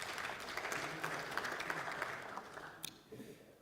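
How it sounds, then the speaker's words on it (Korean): Encouraging applause from lawmakers at a Liberty Korea Party general assembly, a moderate, steady patter of clapping that thins out toward the end as a voice begins. "두 분에게도 격려의 박수 한번 보내주시기 바랍니다"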